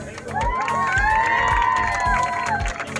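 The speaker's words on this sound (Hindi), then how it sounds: "तालियां।" Crowd cheering and applauding at a women's volleyball prize event, with shouts and whoops over steady clapping and a low rhythmic thumping beneath, fairly close and continuous.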